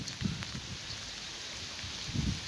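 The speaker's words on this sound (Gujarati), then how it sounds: "અમારે જોરદાર વરસાદ છે" Heavy monsoon rain pours steadily over fields, a continuous close wash of hissing downpour with occasional soft thuds of drops.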